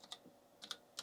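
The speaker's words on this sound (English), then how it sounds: "So we just type in the information on the keyboard, press enter" Typing on a computer keyboard to enter information: a few faint, close key clicks in an uneven rhythm.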